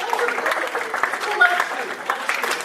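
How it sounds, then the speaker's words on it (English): Soft, scattered clapping from an audience at a stage show, a light patter of hands with some voices mixed in, fairly quiet and uneven. "So let's start with a level 1 golf clap, shall we?"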